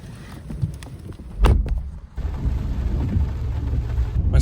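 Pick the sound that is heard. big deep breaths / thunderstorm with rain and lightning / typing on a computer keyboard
thunderstorm with rain and lightning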